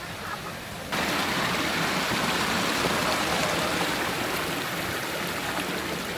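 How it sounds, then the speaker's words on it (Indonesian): Steady loud rush of a small forest stream on Mount Salak being crossed, broadband water noise filling the clip after a quieter first second, with no talk. "Ini kita akan menyeberang melewati sungai kecil."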